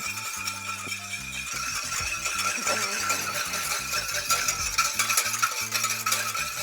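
A wire whisk beats egg yolks for hollandaise in a pan over low gas, a steady fast rhythmic clicking and scraping that runs close and continuous with no pauses.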